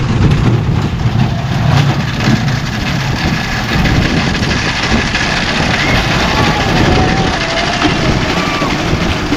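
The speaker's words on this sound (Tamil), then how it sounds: "மான் ட்ரெயினுங்க, இது டியர் ட்ரெயின்." A deer-themed family train ride rumbles past at an amusement park in Chennai, giving a steady low engine drone with crowd noise and talk throughout.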